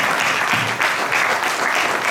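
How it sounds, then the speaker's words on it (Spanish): A church congregation applauds during a Sunday service, a dense, steady burst of clapping from many hands that carries on throughout, close and loud with no talk. "Damos un fuerte aplauso a nuestro Señor."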